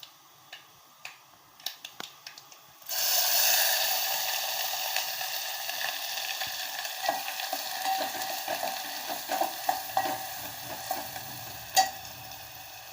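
Masala being stirred and sautéed in hot oil: a few spoon knocks, then a sudden loud sizzle as it hits the pan, frying steadily under repeated stirring taps and scrapes.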